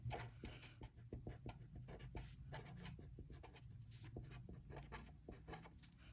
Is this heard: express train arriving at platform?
no